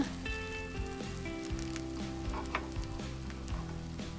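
Green gram paniyaram fry in a pan on a stove over a low flame, giving a steady, soft sizzle with faint crackles throughout, with no talking.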